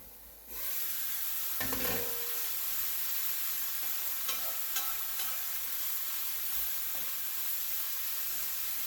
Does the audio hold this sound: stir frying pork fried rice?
yes